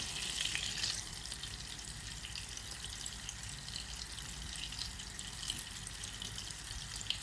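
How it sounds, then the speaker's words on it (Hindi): Chandan kebabs frying in hot butter and oil, a continuous bright sizzle with crackling spits, loudest as they hit the pan at the start and then settling into a steady, even hiss. "ये 1 टेबल स्पून मक्खन और 3 टेबल स्पून तेल, इसको मैंने गरम किया है, इसमें मैं ये कबाब डाल लेती हूँ"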